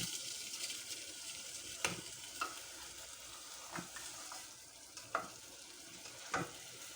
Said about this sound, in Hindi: आलू ऐसे ही गल जाएंगे भूनते में जल्दी से।